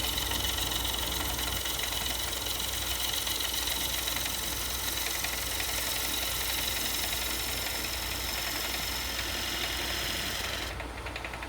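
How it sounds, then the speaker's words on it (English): A wood lathe turns a winged bowl while a gouge cuts its outside, a steady loud whirring hum with continuous scraping texture that runs unbroken for the whole stretch, with no talking. "I'm going to work on the outside of the bowl here, try to get a good cut."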